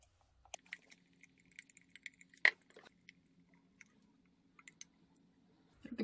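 A spoon scrapes and stirs homemade moisturizing cream against the sides of a bowl, heard as faint, sparse clicks and soft scrapes over a low steady hum, with one brighter scrape standing out.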